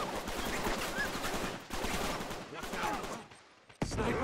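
Sniper and other gunfire in the game Uncharted 3, a dense rattle of shots and impacts running for several seconds, easing off briefly before a sudden loud burst at the end, with speech mixed in.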